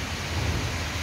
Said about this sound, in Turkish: Bayağı soğuk ve çok yağıyor.